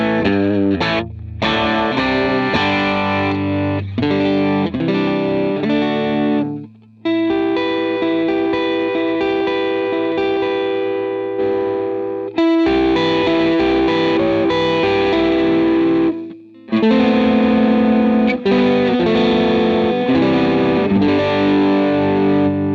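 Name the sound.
electric guitar tone through a Line 6 POD Go preset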